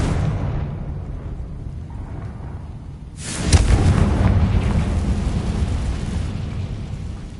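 A Confringo fire spell in Hogwarts Legacy bursts with a sudden loud explosive blast that cuts in after a quiet stretch, then leaves a rumbling, crackling roar that lingers to the end.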